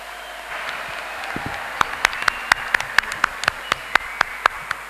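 Scattered claps from an audience at a polytechnic college annual day, sparse and uneven hand claps rising into a loose irregular patter over a steady hall hum, with no voices.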